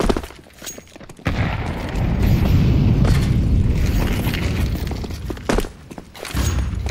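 A grenade blast in Counter-Strike 2 on the Nuke map, a heavy booming burst after a short quiet stretch, then a rumbling roar that lingers for several seconds, followed by sharp cracks near the end.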